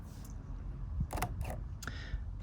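A Leica M10-R rangefinder camera fires its shutter with a few quiet, crisp mechanical clicks over a steady low background hum.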